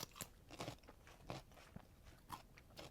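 A pepper dipped in Italian salad dressing is bitten and chewed up close, giving a few faint, crisp crunches and crackles spread across a few seconds.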